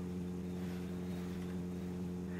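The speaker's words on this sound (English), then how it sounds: "Luckily, the engine noise drowns it out quite a bit when we're in the car." Steady, droning engine hum of a car being driven in the video game The Long Drive, a constant low rumble with harmonic bands that holds evenly throughout with no speech.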